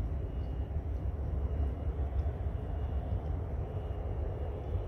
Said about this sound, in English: There is Transavia, as I confirmed. You can see behind Air Caraïbes. It's a 737 aircraft.